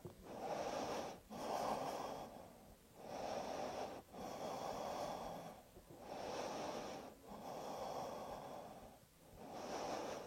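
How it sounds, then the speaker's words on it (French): Slow, deep breaths during a yoga arm-strengthening exercise, each long inhale and exhale close and audible, repeating steadily about six times with brief pauses between. "Respirez profondément."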